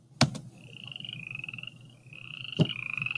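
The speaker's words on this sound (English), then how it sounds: "Frog sound." Cartoonish frog croaks from a quiz game, two sharp onsets followed by a sustained warbling ribbit, played clearly with no talk.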